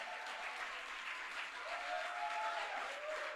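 A church congregation applauds the preacher during a prophetic worship service, with sustained dense clapping throughout, steady and fairly loud, a crowd murmur underneath and no one speaking over it.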